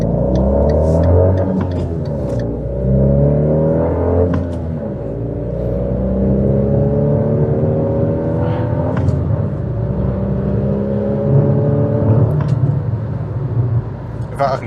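A 2019 Fiat Panda Cross TwinAir two-cylinder engine drones and rises in pitch as it revs through six gears, a buzzy, steady hum heard from inside the car.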